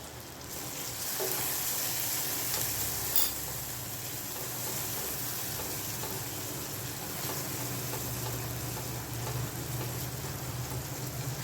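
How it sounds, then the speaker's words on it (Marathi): Soya chunk masala with garam masala sautés in a pan, giving a steady, close, even sizzle and crackle that runs throughout, with a faint stir or clink early on and no talking. "आणि छान परतून घ्यायचं आहे आपल्याला 2-3 मिनिटं."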